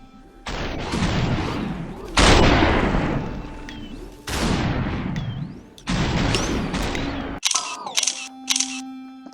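Loud, close gunshots from the video game Superhot, five heavy blasts a second or two apart, each trailing off into a long reverberant roar, followed by quicker mechanical clicks and tones.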